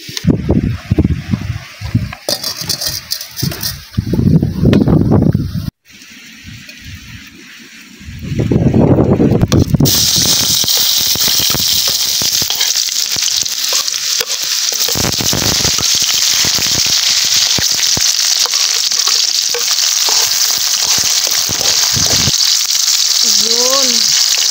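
Fish frying in a pan gives a loud, steady crackling sizzle that dominates most of the stretch, after a rougher opening with bursts of noise.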